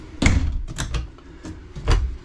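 Guest door on a 2024 Palomino Puma 39PQB destination trailer, giving a few quick thuds and latch clicks in quick succession, close and fairly loud, with no talking.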